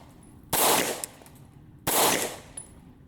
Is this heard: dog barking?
no